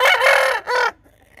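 Chickens call loudly and close by, two raspy, harmonic bursts of clucking and crowing in quick succession, then the sound drops to near quiet.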